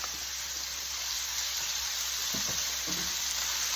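Ground beef frying in a pan, a dense, steady hiss of sizzling fat close up, with a few faint utensil taps near the end.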